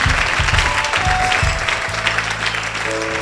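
Church congregation applauding in rhythmic bursts of clapping, steady and fairly loud, with a sustained organ-like tone entering partway and continuing under the claps.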